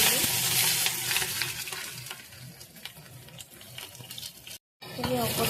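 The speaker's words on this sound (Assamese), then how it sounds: "এইখিনি অকণমান ৰঙচুৱা হোৱালৈকে ভাজি দিছোঁ।" Onions fry in hot oil with panch phoron and dried red chilies in a wok for a liver pot dish. A continuous sizzle mixes with stirring scrapes, and there is a brief silent break near the end.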